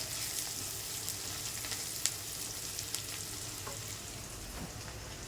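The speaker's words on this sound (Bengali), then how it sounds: "তেলের মধ্যে পেঁয়াজ রসুন কুচি দেবো আর চিংড়ি মাছ কুচি দেবো" Chopped onion, garlic and shrimp frying in oil, a steady bright sizzle held close with a few small pops and faint stirring, with no voices.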